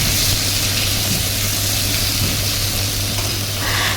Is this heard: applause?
no